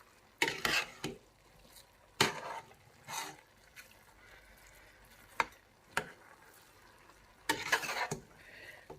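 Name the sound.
stirring shami kebab ingredients cooking in a pot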